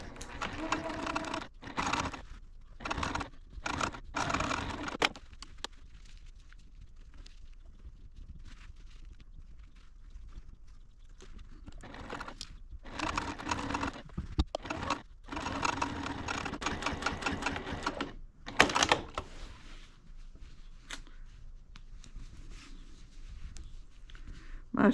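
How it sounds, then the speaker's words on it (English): A sewing machine runs in repeated bursts and longer stretches while stitching jelly roll quilt pieces together as it skips stitches, a loud, close mechanical whirring that starts and stops with short pauses. "My sewing machine is skipping stitches"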